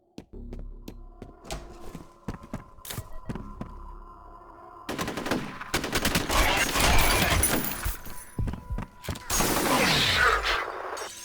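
Rapid gunfire from shooting enemies in the video game F.E.A.R., with sparse single shots at first, then dense bursts of loud, close firing that build into a chaotic, sustained barrage with only faint voices under it.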